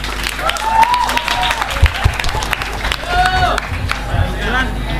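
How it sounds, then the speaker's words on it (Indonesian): Applause and cheering from an audience for university students at a campus discussion forum, a crowd clapping with chatter and a shout or two mixed in, steady across the whole stretch. "Tepuk tangan untuk teman-teman mahasiswa."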